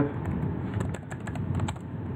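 Typing on a computer keyboard, a quick uneven run of sharp key clicks close by over a steady background hum, with no talking.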